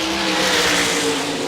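A field of 410 sprint cars racing at Hartford Speedway Park in Michigan, a loud, steady engine roar with a sustained whine and tire noise for a brief moment, no voices.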